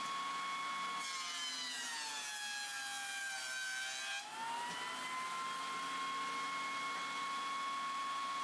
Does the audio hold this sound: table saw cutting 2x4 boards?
yes